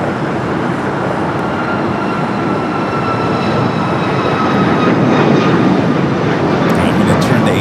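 A jet airliner taking off from runway 25 right at Los Angeles International Airport, a steady broadband roar building slightly over several seconds, loud and continuous, with radio chatter faintly underneath.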